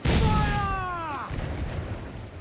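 Naval cannon fire aboard a sailing ship in Assassin's Creed Black Flag, a loud booming blast with a falling whistle-like tone that fades into a lingering rumble of battle noise.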